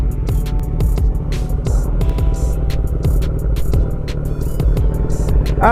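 Kawasaki big bike engines throb and rumble nearby in a steady low drone, with occasional clicks and rattles over a constant mechanical hum.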